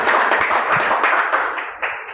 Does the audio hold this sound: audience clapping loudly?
yes